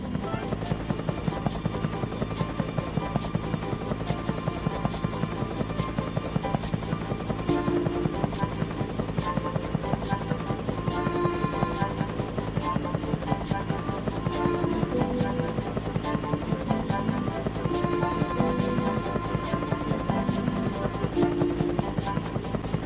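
A biplane drones steadily overhead in the Thomas & Friends: Trouble on the Tracks PC game, a continuous buzzing engine hum with game music layered over it throughout.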